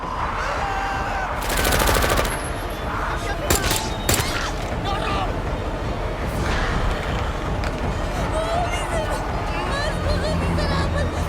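Rapid bursts of gunfire in a zombie horror film crackle amid a murmur of crowd noise and voices, with sharp single shots scattered between the volleys.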